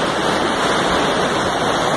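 Rushing floodwater pouring down a rural river near a bridge after heavy rain upstream, a loud, constant roaring wash of water with no clear voices.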